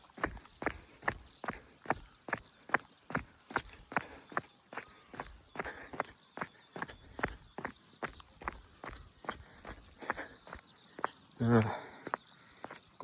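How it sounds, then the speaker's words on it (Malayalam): Horses walking along a trail in Bhutan's Phobjikha valley, steady, evenly spaced hoof clip-clops close by for many seconds, with faint birdsong and a brief louder burst near the end. "കുതിരകൾ"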